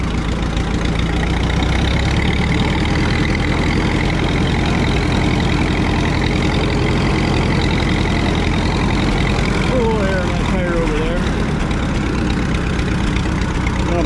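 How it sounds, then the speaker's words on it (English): A small tractor engine idles steadily and loud up close, a continuous low rumble throughout with outdoor background noise. "Nice little tractor here."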